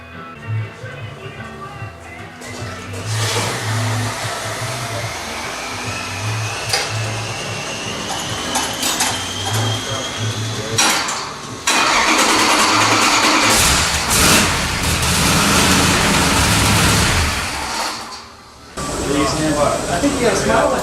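Vintage 426 Hemi V8 running on a SuperFlow engine dyno on pump gas, a loud sustained roar that climbs steadily in pitch through a long pull before cutting off, then picking up again, with voices underneath.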